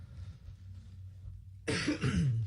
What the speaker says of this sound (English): I'm having unusual fits of coughing here